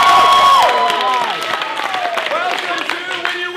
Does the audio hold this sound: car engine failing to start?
no